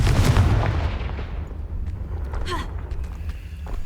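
A Confringo fire spell in the Hogwarts Legacy video game bursts as a heavy booming explosion at the start, then rumbles and crackles down into a long fading tail, with scattered small debris sounds.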